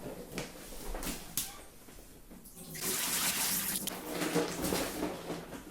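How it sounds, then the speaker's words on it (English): Dirty wash water drains out of a Scrubba portable laundry bag: a soft trickle and splash, quiet and close, that swells into a steadier, fuller pour partway through. "drain the dirty water"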